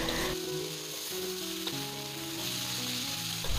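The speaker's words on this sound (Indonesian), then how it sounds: "Kemudian kita aduk-aduk hingga semuanya tercampur merata." Jengkol stir-fried with oyster sauce in a pan gives a steady, close sizzle that runs through the whole stretch, with faint scraping and clinks from stirring and no talk.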